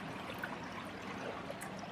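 Water from a sample bottle is dumped into a stream behind the sampler, a steady low splash and trickle over flowing water, fairly faint and continuous without talk.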